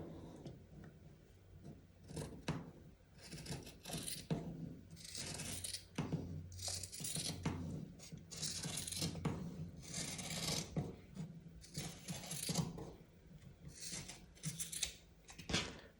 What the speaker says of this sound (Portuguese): E agora eu vou cortar bem na marcação.